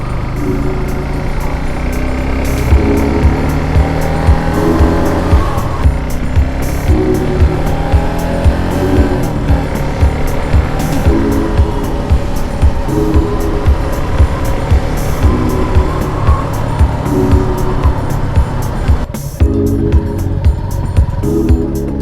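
A Suzuki Gixxer SF250 motorcycle is ridden on the road, its engine droning steadily and loud with rhythmic rises in pitch as it accelerates through gears, no speech over it.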